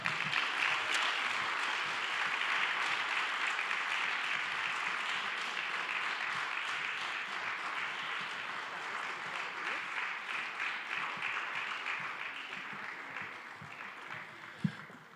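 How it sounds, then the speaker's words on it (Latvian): A crowd at a Latvian volunteer awards ceremony breaks into sustained applause, a dense, loud wash of clapping that holds steady for the whole stretch before thinning slightly at the close. "Vētrainiem aplausiem skanot."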